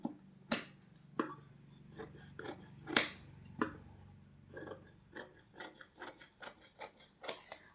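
Scissors cut fabric for a princess blouse in a string of crisp snips and blade clicks, close by and irregular, some sharper than others, with no voices.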